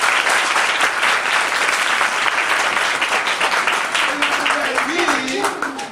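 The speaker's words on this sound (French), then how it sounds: "Applaudissez-vous." A school audience applauds at an awareness campaign event, dense loud clapping that stays steady throughout and thins slightly near the end, with a voice briefly audible beneath it.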